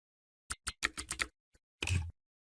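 A verification code is typed on a laptop keyboard as a close, quick run of about six crisp key taps, then a lone tap and a longer final press, with no talk.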